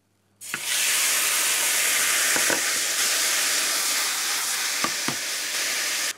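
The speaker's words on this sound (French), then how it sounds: "Dans une poêle chaude, je verse un filet d'huile d'olive. Et je fais poêler les cubes d'ananas très rapidement." Pineapple cubes sizzle in a drizzle of olive oil in a hot pan, a loud steady hiss that starts abruptly and holds for several seconds, broken by a few sharp pops and crackles.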